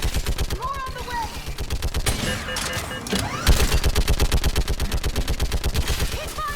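Rapid automatic gunfire from a Mass Effect 3 battle rattles in a steady, fast rhythm of loud close shots. It breaks briefly in the middle for a burst of bigger impacts, with faint shouted voices among the shots.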